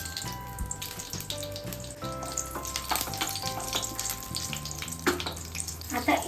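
Whole spices dropped into hot oil for chole, a faint crackling sizzle with scattered pops, close by and steady throughout.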